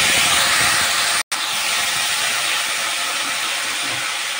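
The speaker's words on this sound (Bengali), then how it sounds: "এবার আমি ছোলাগুলোকে দিয়ে দেব।" Chickpeas hitting hot ghee with reddened spices, a loud, dense, steady sizzle and hiss that cuts out for a split second and then carries on unbroken.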